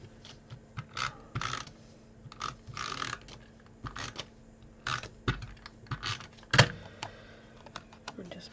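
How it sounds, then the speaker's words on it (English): A tape runner laying adhesive on a paper craft gift box, a string of short clicks and brief ratcheting rolls coming in irregular bursts, close and quiet with no talking. "And I'm just using my tape runner."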